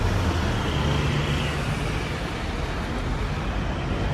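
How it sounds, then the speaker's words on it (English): Buses and general traffic rumble through Bristol city centre, a steady, dense roar of engines and road noise with no breaks, fairly loud and continuous throughout. "All buses coming."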